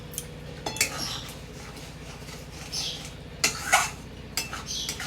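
A spoon scrapes and clinks in a pan of catla fish curry being stirred and sautéed, close and quiet, with scattered sharp metallic taps over a low background hum.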